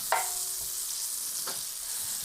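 Chicken seasoned with salt and pepper sizzling in melted butter in a pan, a steady close frying hiss with a couple of brief scraping stirs, no voices.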